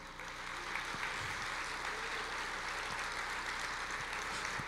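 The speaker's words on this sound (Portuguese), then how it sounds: "Põe na salva de palmas" A church congregation gives a round of applause, a continuous wash of clapping at even loudness throughout with no speech over it.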